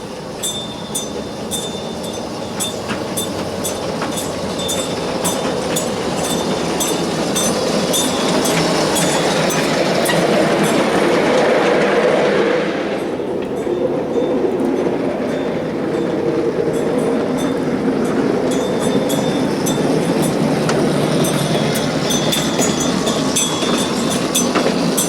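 A ride-on train rolls steadily along the rails toward a siding at Sahuaro Central, with continuous loud rumbling, rail clatter and wheel squeal, easing briefly midway and then carrying on, with no talking.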